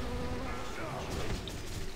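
A bee enemy in a video game buzzes in a steady, close drone that wavers slightly in pitch and lasts throughout, with no talking over it.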